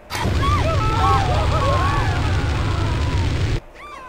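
Flamethrower firing in the GTA Trilogy video game, a continuous loud roaring whoosh that sustains for several seconds and then cuts off abruptly, with a few faint whistling tones riding over it.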